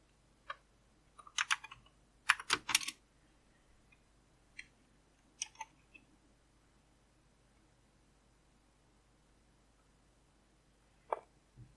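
Terminal commands are typed on a computer keyboard in sparse bursts of crisp clicks and keystrokes, close but quiet, with long silent gaps between clusters.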